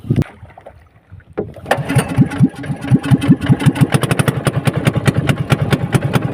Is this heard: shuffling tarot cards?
no